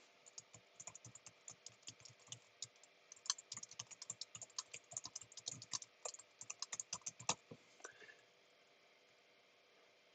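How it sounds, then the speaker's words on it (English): Rapid typing on a computer keyboard sounds close and fairly quiet, with irregular bursts of clicky keystrokes for about eight seconds before trailing off into near silence. "I am typing my little heart out."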